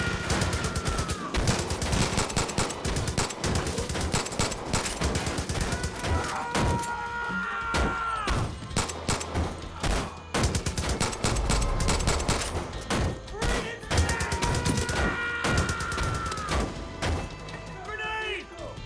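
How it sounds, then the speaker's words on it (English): Rapid gunfire from shooting enemies in Far Cry 5, with dense bursts of automatic and single shots, thuds and crashes running nearly nonstop, mixed with game music and someone talking over it. "Gotta shoot down as many guys as I can."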